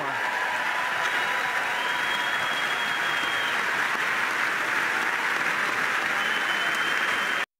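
Members of Congress applaud and cheer at the 2019 State of the Union, a dense, steady wash of clapping filling the hall at full strength for several seconds before cutting off abruptly.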